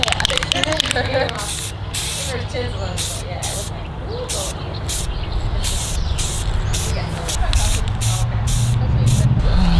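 Light coats of color-shifting spray paint go onto a BMX frame in a series of short, close hissing bursts, roughly one per second, with someone talking between and over them.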